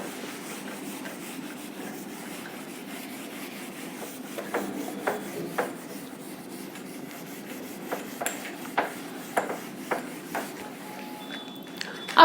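A cloth or duster rubs writing off a classroom board, giving soft, faint scrubbing strokes with light taps that grow denser toward the end, with no speech over them.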